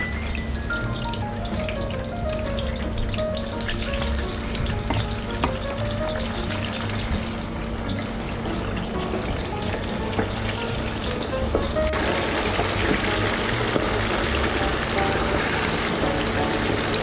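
Thinly sliced chicken gizzard frying in hot oil, a loud, continuous crackling sizzle that holds steady throughout and turns brighter and busier partway through.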